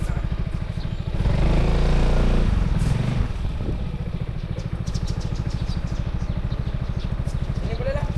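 A motorcycle idles nearby with a steady, close, throbbing engine note while it is parked at a Puspakom vehicle inspection centre, and people talk over it throughout.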